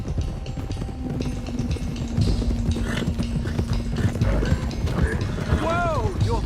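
Horses' hooves clip-clop along with neighing and whinnies amid busy sound effects in Red Dead Redemption 2, while voices talk over the action.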